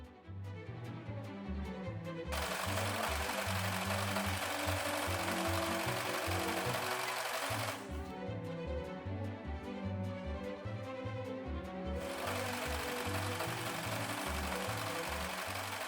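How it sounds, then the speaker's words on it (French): A serger overlocks the long edges of fabric pieces for a sewing kit pouch. It runs in two long, loud, steady bursts, with a quieter rhythmic bed between and beneath them. "nous allons d'abord surjeter le grand côté de la pièce B1, puis les 2 grands côtés de la pièce B2"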